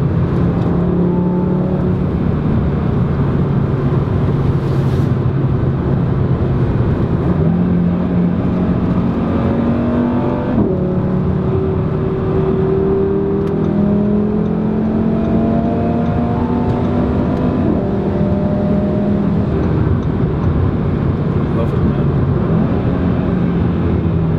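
An Audi RS3 sedan's engine and exhaust drone loudly and continuously, pitch rising through gears with brief dips at each shift, a strong low rumble filling the cabin with no talking.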